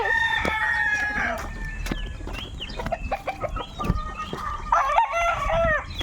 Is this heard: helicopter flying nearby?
no